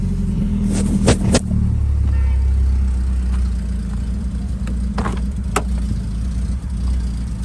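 An old uncle's car engine idles steadily up close with a low, even rumble, broken early on by a few sharp clicks and knocks.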